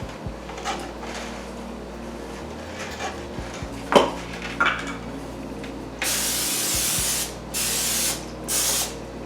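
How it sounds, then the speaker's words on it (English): Several bursts of aerosol cooking spray hiss loudly and close as cake pans are greased, following some clinks and handling of the pans. "I can spray the pans and pour the fluid in"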